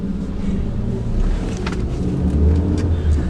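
Steady low engine rumble heard from inside a 2016 Maruti Suzuki Ciaz on the move, a continuous even hum with faint road noise and no talking.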